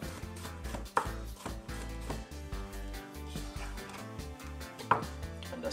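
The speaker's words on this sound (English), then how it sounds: "I'm gonna simply slice up some cucumber" A knife slicing through cucumber on a board for a fresh salad, with close, brisk rhythmic cuts layered over steady background music, two sharper knocks standing out.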